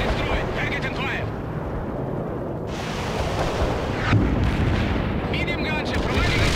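Artillery barrage in the World in Conflict video game: a dense, loud, continuous rumble of booming impacts and blasts that rolls on without pause, with voices talking over it.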